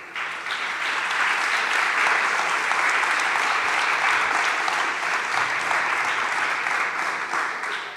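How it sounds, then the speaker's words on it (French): Loud, steady applause from the audience at the launch event of a gathering fills the whole stretch, dense and continuous, tapering slightly at the close. "Vous pouvez les applaudir."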